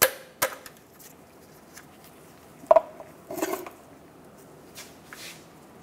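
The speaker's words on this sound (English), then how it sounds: "Using a 14mm socket, undo the drain plug on the oil pan." A 14mm socket turns the oil pan drain plug on a 2014-2019 Toyota Highlander, giving a few sparse, sharp metallic clinks and taps that stand out against a quiet background.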